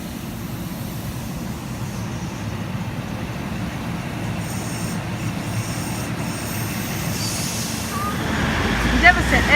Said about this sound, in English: Endeavour set N14 now departing Central Sydney terminal service.